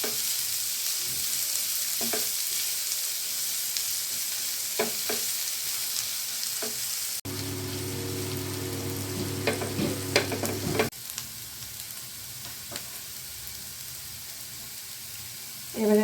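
Onion and garlic fry in hot mustard oil with a steady broadband sizzle, stirred with scattered scraping clinks; midway a sustained low tonal hum briefly joins before the frying continues alone.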